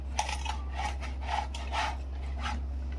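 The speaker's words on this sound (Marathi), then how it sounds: "एक इकडे आपला बटाटा किसते" Potato is rubbed over a grater in quick rasping strokes, about six scratchy passes in a steady rhythm, close and moderately loud over a low background hum.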